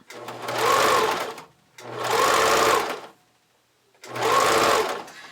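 A sewing machine stitches elastic onto knickers in three rapid whirring bursts, each lasting about a second and a half and separated by short pauses, close and clear with no voice.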